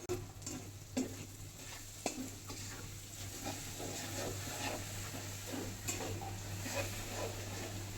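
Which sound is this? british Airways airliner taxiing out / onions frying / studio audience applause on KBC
onions frying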